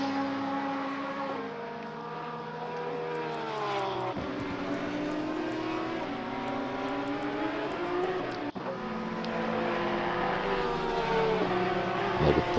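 A Porsche race car laps Kyalami in a racing video game, its engine a loud, sustained drone whose pitch climbs and falls steadily through gear changes for the whole stretch.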